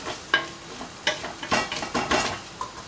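Pepper tossed into a pan of garlic chicken over low to medium heat gives a soft sizzle, broken by a few sharp clinks and scrapes of stirring against the pan, with no talking.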